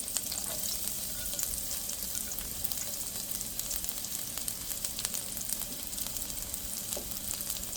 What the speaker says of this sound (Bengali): তেলটা গরম হয়ে গেছে। এখন আমি রসুন কুচি দিয়ে দিলাম।